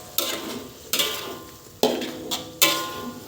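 Kaffir lime leaves and bay leaves are sautéed in a pan. Four or five sharp scrapes and clatters of a utensil against the pan cut over a low frying sizzle, each one fading quickly. No voices.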